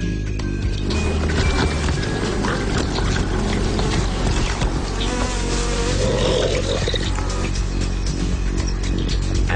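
Dense, loud buzzing of many angry honey bees swarms continuously, mixed with rough animal noise and commotion from a honey badger, with no speech.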